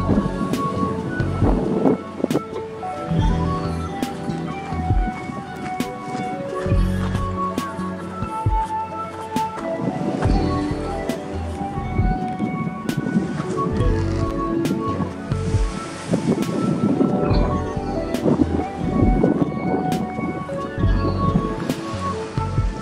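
Ocean swell breaking near the middle of a surf spot while an offshore wind blows, a continuous roar of surf and wind rumble on the microphone with faint music underneath.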